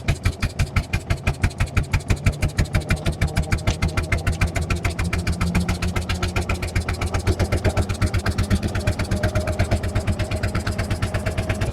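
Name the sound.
1906 Sizaire-Naudin car engine running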